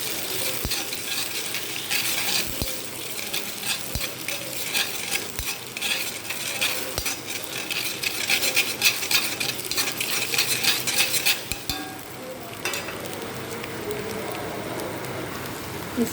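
Egg mixed with salt and turmeric frying with onions in a pan while being stirred, with repeated spatula scrapes and taps over a steady crackling sizzle that quiets toward the end.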